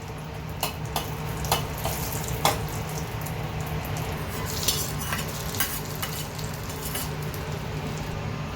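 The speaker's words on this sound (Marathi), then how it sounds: "शेवटी ही मोहरी टाकूया. हे थोडी तडतडून घेऊया" Mustard seeds spluttering in hot oil for a tempering, sharp scattered pops and crackles over a steady sizzle with light stirring, close and mid-loud, no voices.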